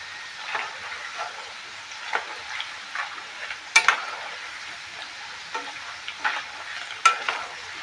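Raw banana chips frying in a little oil at home, with a faint steady sizzle broken by irregular scraping stirs and occasional sharper clinks of a utensil against the pan, close and fairly quiet without speech.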